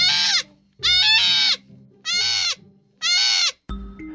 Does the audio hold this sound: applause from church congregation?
no